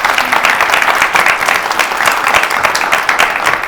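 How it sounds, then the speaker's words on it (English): Loud, sustained audience applause at a live idea-pitch competition event, dense steady clapping from a large crowd filling the whole stretch with no pauses. "give another round of applause for Dia Thomas"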